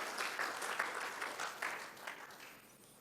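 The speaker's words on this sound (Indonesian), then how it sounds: "Yang berkata amin, boleh tepuk tangan bagi Tuhan Yesus." A church congregation claps together after a sermon, a soft, somewhat distant wash of hand claps with small swells that holds for about three seconds and tapers slightly at the end.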